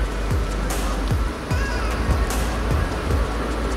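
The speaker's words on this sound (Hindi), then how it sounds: "ऊपर पहाड़ी से सारा पानी आ रहा है।" Rainwater rushes down from a hill under high pressure at Garwaji in Alwar, Rajasthan, a loud, continuous, close roar of churning water.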